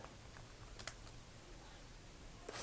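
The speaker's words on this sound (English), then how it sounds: "So what we're going to do right now is that I am going to type" Faint, quick keystrokes on a computer keyboard tap away in a quiet room, with a couple of slightly sharper clicks.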